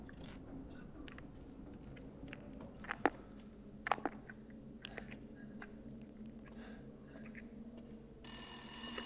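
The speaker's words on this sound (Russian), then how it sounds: "зазвонил телефон" An old telephone bell rings in Resident Evil Village on PS5 inside House Beneviento, a few sharp rings amid quiet game ambience, then a louder tone at the end.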